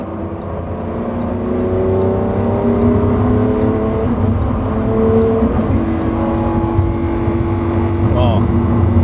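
A Lamborghini Countach's engine drones steadily and loudly from inside the car as it takes a curving Autobahn on-ramp, with a rising tone and someone talking over it.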